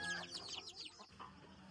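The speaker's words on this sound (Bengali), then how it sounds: "আর দেখেন মুরগি কই কই ডিম পাড়া রাখছে" Chickens on a poultry farm where hens are laying eggs, soft clucking calls repeating close by, faint and brief, with no talk.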